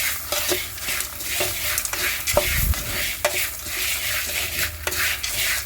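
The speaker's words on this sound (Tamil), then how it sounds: "சும்மா ஒரு கொத்து கருவேப்பிலை போட்டு நல்லா கிண்டி விட்டுக்கோங்க" Spoon scraping and stirring through curry leaves and dry-roasting spices in a pan, repeated close scrapes with a steady hiss, for a drumstick leaf spice powder.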